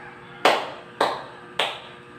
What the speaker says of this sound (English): Give yourself a 3 claps.